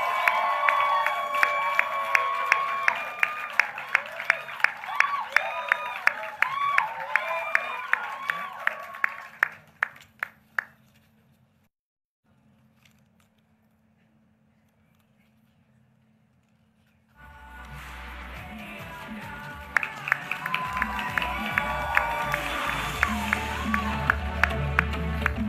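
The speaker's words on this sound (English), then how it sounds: "Please join me in applauding the awardees from the graduate class of 2021." A graduation ceremony audience at a university commencement applauds the awardees: dense, loud clapping and cheering that fades into near silence for several seconds, then a fresh burst of applause swells up again.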